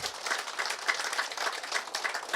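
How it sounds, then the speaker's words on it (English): Audience at a pump station ribbon cutting in Terrebonne claps in a steady, moderately quiet patter of many hands outdoors, with no talk over it. "please give them a round of applause because they made this happen"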